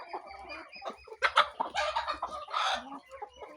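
Free-range village chickens cluck close by in irregular, choppy bursts, with a few louder squawks in the middle and toward the end against an otherwise quiet yard.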